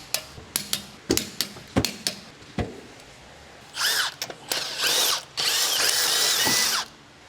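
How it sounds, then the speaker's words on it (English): Lug nuts on a Honda Civic wheel removed with a 17mm socket: a string of sharp metallic clanks and ratchet clicks, then loud sustained bursts of a whirring power tool spinning the nuts off, close up. "Use a 17mm socket to remove the lug nuts."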